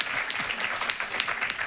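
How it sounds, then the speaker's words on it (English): At a university tech industry panel event on a Friday night, the audience breaks into loud, dense applause with crisp overlapping claps, no voices over it. "please, a huge round of applause for our panelists"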